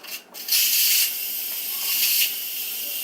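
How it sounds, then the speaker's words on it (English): Steam hissing from a pressure cooker releasing pressure while baby back ribs cook, a steady broadband hiss that swells louder for a moment then settles into a continuous, close, even rush with no talking. "let the pressure release finish"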